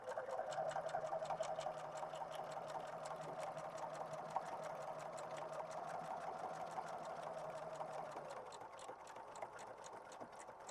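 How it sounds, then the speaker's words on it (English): A sewing machine back tacking the bottom seam of a bag runs steadily for about eight seconds, a fast, even mechanical chatter at close range, then stops, leaving quiet room tone. "I am going to back tack both the start and the end on these"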